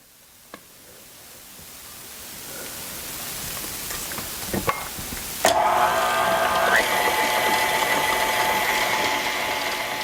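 Cake batter with condensed milk is beaten together in a bowl for a Raffaello-style coconut cake. A rising hiss is followed by a steady motor whirr that kicks in partway and keeps running.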